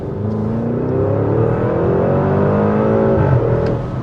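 A 2024 Porsche Cayenne Turbo GT accelerates hard, its engine note loud and close, climbing steadily in pitch before easing near the end, with nobody speaking.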